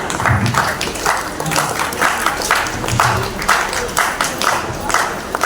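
An audience at a Vasavi Club International celebration breaks into steady, rhythmic clapping for the club president, a crowd of hands sustained at even loudness, with a voice faintly heard beneath.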